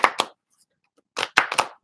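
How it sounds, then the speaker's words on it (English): A deck of tarot cards is shuffled up close in short, crisp bursts: two quick riffles, a pause, then a cluster of several more. "I'm just shuffling the deck to clear the energy."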